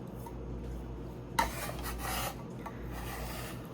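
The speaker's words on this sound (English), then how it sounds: "I use my scraper here to get all of that off" A kitchen scraper rasps across a cutting board, sweeping chopped mango and cilantro into a bowl in one short scraping stroke near the mic, then a softer rub.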